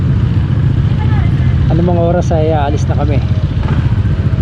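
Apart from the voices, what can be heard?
motorcycle engines warming up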